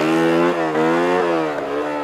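A street-legal motorcycle engine running steadily on a hot day of wheelie training, loud and close, its pitch rising and dropping repeatedly with throttle blips.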